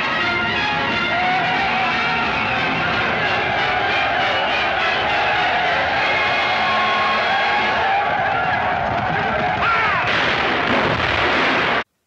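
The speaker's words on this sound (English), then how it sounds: "the first to open fire was the artillery. Then the gunboats and finally the infantry were all firing upon the Dervish army" Battle din of artillery, gunboat guns and infantry rifle fire during the Battle of Omdurman, a dense, continuous roar of overlapping shots and blasts, loud throughout with no voices.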